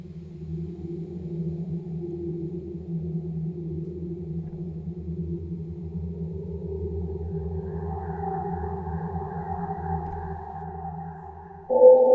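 A NASA recording of wind on Mars, reshaped with EQ and reverb into a steady, smooth low drone. A higher tone joins around the eight-second mark, and a short, louder swell closes it.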